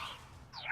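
A Levioso levitation spell cast in Hogwarts Legacy: a soft rising magical swish that fades, then a brighter sweeping shimmer swells at the end, brief and fairly close with no talking.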